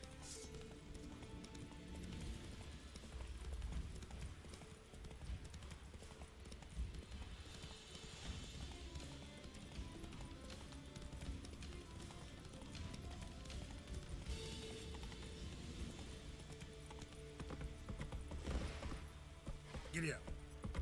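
A horse gallops in The Witcher 3 with continuous clip-clopping hooves throughout, mixed with game ambience and a brief neigh, while people talk over it.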